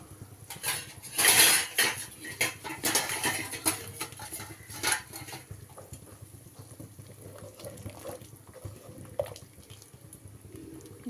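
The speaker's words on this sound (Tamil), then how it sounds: "இப்போ இன்னும் கொஞ்சம் மட்டும் சேர்த்து கலக்கிக்கலாம்." A spoon clatters and scrapes against a pot while stirring kurma, a burst of metallic clinks early on that thins out to sparse taps, close and without speech.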